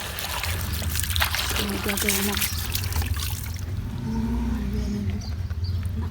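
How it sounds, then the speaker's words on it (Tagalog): Water poured into a container for birds in hot, sunny Dubai, a close steady trickle and splash lasting several seconds while a person talks over it. "I'm gonna give them water."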